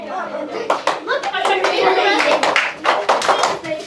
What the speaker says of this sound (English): Hey, clap if you can hear me.